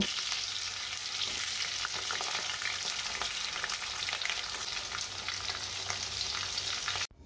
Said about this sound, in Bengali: আলুগুলোকে লাল লাল করে ভেজে তুলে নেব